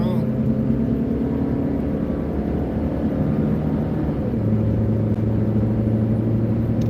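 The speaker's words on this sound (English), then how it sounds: "Got to do the get on the freeway sounds." An aging car's engine revs steadily as it accelerates up a freeway on-ramp, a loud continuous low rumble with shifting harmonic drone heard from inside the cabin, with no talk over it.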